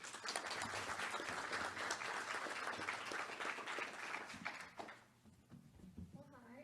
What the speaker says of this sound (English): Would you give a round of applause to Olivia?